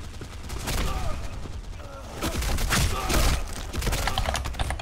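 Rapid gunfire bursts from the online shooter Black Squad, crackling in dense volleys that swell and fade over the whole stretch, with a voice talking faintly underneath.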